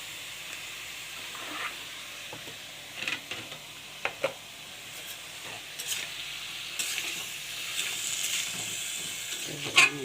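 Food frying in a pan with turmeric and chilli powder while it is stirred: a quiet, continuous sizzle broken by scattered scrapes and clinks of the spoon against the pan.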